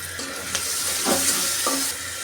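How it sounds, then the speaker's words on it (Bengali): Onions sizzling in hot oil in a wok, a steady broadband frying hiss with a few soft stirring scrapes, close and moderately loud, no voices. "এখন আমি পেঁয়াজগুলো দিয়ে দেবো"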